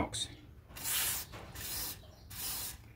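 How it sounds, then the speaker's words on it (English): Thin Inox lubricant sprays into a Heiniger Cyclone clipper handpiece in three short, close hissing bursts separated by brief pauses. "I'll spray it with um, I"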